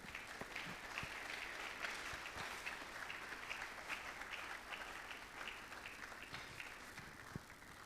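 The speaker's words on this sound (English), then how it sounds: "shall we please give an applause to Nana Kobna Nketia" An audience at a school sesquicentennial lecture panel discussion gives sustained applause, a dense, even wash of many hands clapping heard from a moderate distance throughout.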